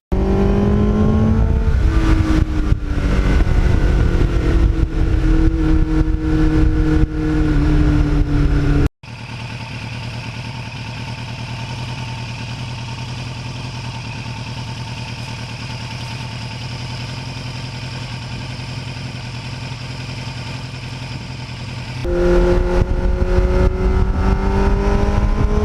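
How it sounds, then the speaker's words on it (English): Engine of a 1989 Kawasaki GPX750R sport bike fitted with a Muzzy muffler, idling with a steady close burble and occasional revs, dropping briefly to a quieter running note before picking back up, with no voices. "that Muzzy muffler is one of the things that makes this bike enjoyable to ride"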